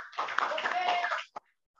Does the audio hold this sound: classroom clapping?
yes